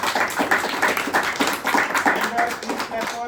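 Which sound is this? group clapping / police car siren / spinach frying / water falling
group clapping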